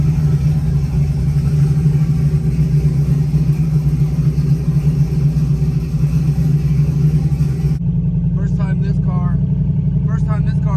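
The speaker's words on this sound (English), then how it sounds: "first time this car's moved in months, man." A Z car with a newly installed engine drives along a street, a loud, steady low engine rumble that runs for several seconds, then cuts to a quieter idle hum while someone talks close by.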